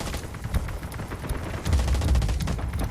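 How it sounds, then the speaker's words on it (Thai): Gunfire from the mobile shooter Delta Force Mobile: dense, sustained automatic bursts crackling without pause for about three seconds, with heavier low thuds building toward the end. "ยิงดักไปก่อน"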